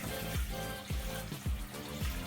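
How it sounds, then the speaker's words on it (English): Cooking water poured off freshly boiled peas, a steady rushing pour broken by four regular low glugs, close and fairly loud, with no voices. "after 2 minutes, you want to drain the water"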